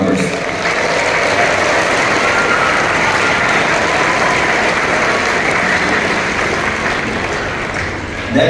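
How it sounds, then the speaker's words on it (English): Sustained applause from an audience at a high school orchestra festival, a thick, even roar of many hands clapping that holds strong throughout and eases slightly near the end. "So please give them a round of applause to our MPA members."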